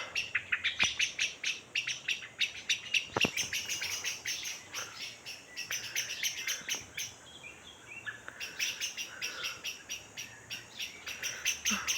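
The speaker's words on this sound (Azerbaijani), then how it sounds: "Quşlar oxur." Several birds chirp and trill in quick repeated bursts, fairly close, against quiet outdoor background in Qabala, Azerbaijan, with no talking.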